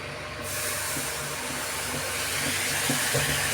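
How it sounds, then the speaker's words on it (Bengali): Water coming to a boil in a preheated pan while aloo kulcha is being made, a steady rushing hiss with bubbling texture that holds at an even, fairly loud level for the whole stretch. "জলটা এরকম ফুটে উঠেছে"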